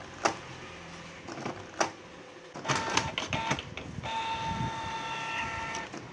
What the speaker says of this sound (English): The printer will feed paper out,